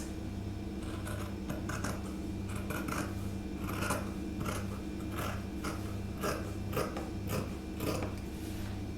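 Scissors snip through fabric for a jabot collar in a steady run of close, crisp cuts over a constant low mechanical hum, with no voices.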